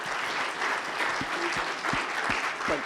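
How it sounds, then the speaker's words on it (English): A conference audience at the NPA Conference applauds a speaker after his talk, with steady dense clapping that fills the room and a few louder individual claps standing out near the microphone. "Round of applause, please, for the great man."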